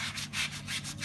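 A Bugaboo Bee stroller wheel is scrubbed by hand to remove dirt and pink discoloration, a close, rhythmic back-and-forth rubbing of about five even strokes.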